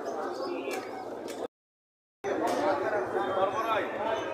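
Pigeons coo and flutter amid the bustle of a pigeon market in Mirpur, Dhaka, with people talking nearby; the sound drops out briefly in the middle.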